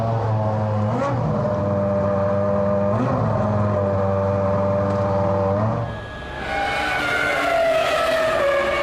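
Formula One race cars at the 2000 German Grand Prix roar loudly and steadily, a high, harmonic engine scream with pitch wavering as revs rise and fall, then a brief dip and a sharper, brighter surge of engine noise.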